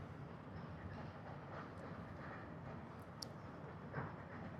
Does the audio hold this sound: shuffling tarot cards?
no